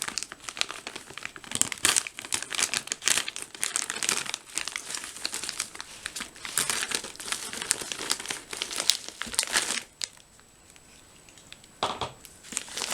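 A plastic military ration package is cut open and handled, with dense close crinkling and rustling in irregular bursts before it briefly quiets.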